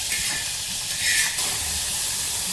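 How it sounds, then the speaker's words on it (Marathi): Onion and tomato fry in ghee in a small pressure cooker, giving a steady, close sizzling hiss with a brief swell partway through and no voices. "आता एका छोट्या कुकरमध्ये मी कांदा आणि टमॅटो दोन्ही तुपात घालत आहे"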